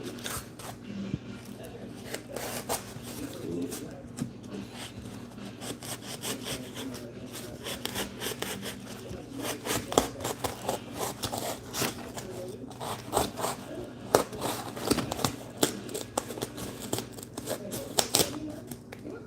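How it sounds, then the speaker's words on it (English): Close-cell foam on a prop weapon's axe head is cut with a blade in repeated rasping, sawing strokes, steady and close, with occasional scratchy rubbing and faint talk underneath. "close-up foam is pretty easy to cut through"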